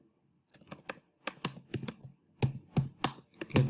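Clicky typing on a computer keyboard, irregular quick keystrokes in small bursts, close and fairly quiet, with no talking.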